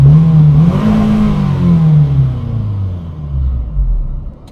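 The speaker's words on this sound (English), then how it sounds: "Let's give it a good little rev or two." A 2002 Toyota Camry XLE, a twenty-year-old sedan already at operating temperature, revs hard and loud with a rising then falling engine note that settles into a lower, rumbling drone. No one speaks.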